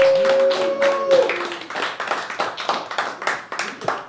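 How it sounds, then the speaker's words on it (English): Audience at a comedy open mic breaks into applause, a dense run of claps and sharp hand taps lasting about four seconds, close and fairly loud, with a sustained tone and faint voices at the start. "Round of applause for the audience member."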